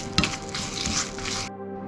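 Cumin and coriander seeds fry in a pan with a steady, close sizzle and a light stirring scrape, one sharper tap near the start, before the sizzle cuts off abruptly.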